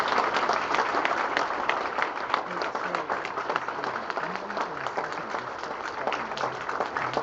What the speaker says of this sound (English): I'm going to have all the candidates stand up, and we'll just give them a round of applause.